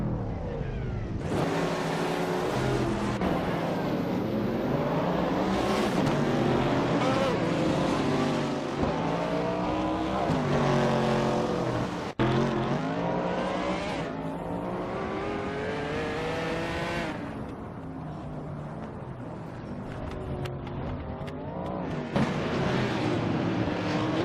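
Video game race cars at Atlanta Motorsports Park, several engines roaring and revving with rising and falling pitch as cars shift and pass, loud and continuous throughout with no talking.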